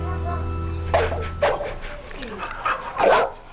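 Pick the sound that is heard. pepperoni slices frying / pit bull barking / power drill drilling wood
pit bull barking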